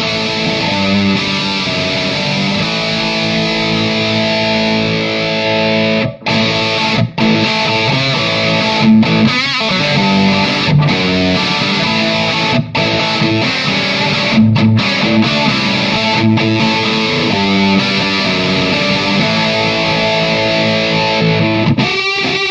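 Electric guitar played through a distortion tone with boosted mids, loud and sustained with chords and riffs ringing continuously, a few brief stops between phrases, no talking.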